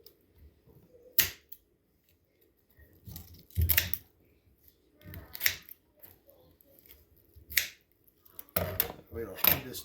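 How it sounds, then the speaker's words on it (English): Shears cut up the middle of a chicken breastbone while a chicken is being parted out, giving a series of sharp crunching snips and cracks spaced irregularly, close and fairly loud, separated by quiet gaps. "And then you cut the breastbone right up the middle."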